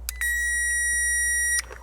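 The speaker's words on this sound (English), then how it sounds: "This meter, when you're on positive, it'll beep this tone." A multimeter gives one steady, bright electronic beep lasting about a second and a half while car connector wires are tested for positive voltage with the key on. The beep sounds close and clear, with faint clicks just before and after it.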